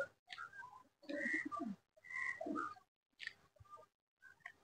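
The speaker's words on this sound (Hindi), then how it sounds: "देखिए दोस्तों, कबूतर कैसे उड़ रहे हैं दोस्तों।" Pigeons cooing in short, soft bursts separated by pauses, a few low rolling calls heard fairly close and faint against near silence.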